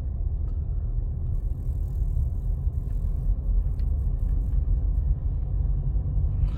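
A car's engine rumbles and hums steadily at low pitch while a learner driver accelerates in a manual-transmission car during a driving lesson, with faint road noise and no talk.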